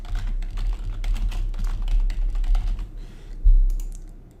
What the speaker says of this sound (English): we're going to type in tracked shipping